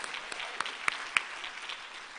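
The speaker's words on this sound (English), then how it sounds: "Let's give them a warm round of applause." Audience applause after a public lecture, a soft bed of many hands clapping with a few sharp, nearby claps standing out above the crowd.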